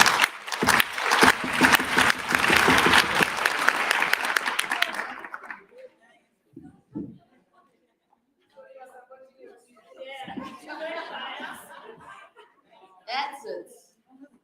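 Conference audience applauding loudly for several seconds in a dense, fast wash of clapping mixed with chatter, then fading into scattered voices and murmuring.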